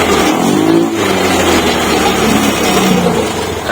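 A Honda Beat Deluxe motorcycle engine running during an ECU remap test, loud and close, with a steady idle that rises in a short rev and settles back, droning continuously throughout.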